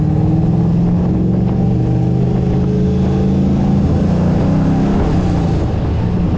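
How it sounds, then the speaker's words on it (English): A Nissan 240 with a welded differential is cornering, heard from inside as a loud, continuous engine drone with a low droning hum that shifts slightly in pitch. "It might just be the welded diff making noise when you come around the curve."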